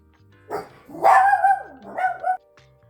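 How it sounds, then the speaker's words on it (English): Dogs barking indoors nearby, a few loud, drawn-out barks and yelping cries in quick succession over roughly two seconds, alone without talk. "My dogs were barking, and they're still barking."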